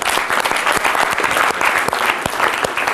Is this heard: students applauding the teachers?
yes